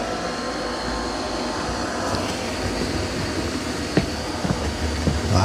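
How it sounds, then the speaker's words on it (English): A Eufy E28 robot vacuum vacuums and mops a floor at once, giving off a steady close whirring drone with a few small knocks and clicks near the end. "Now again, it is vacuuming and mopping at the same time."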